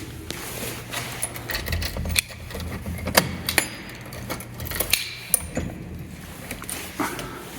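Keys jangle and clink while a door in an Old Town Warsaw loft studio is locked, a series of sharp metallic rattles and clicks with a few louder knocks, close by and without speech.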